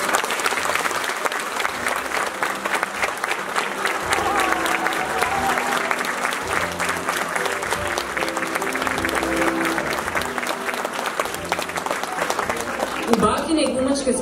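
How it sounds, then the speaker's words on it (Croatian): A theatre audience gives sustained, dense applause welcoming an 83-year-old grandmother making her stage debut. The clapping continues evenly at full strength with a faint voice beneath it, then breaks off near the end. "Pa pozovimo pljeskom."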